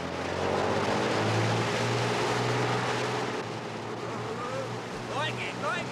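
A boat engine drones steadily over rushing water, its pitch rising slightly partway through, with a few faint chirps near the end.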